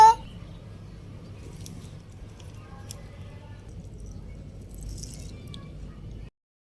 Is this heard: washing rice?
yes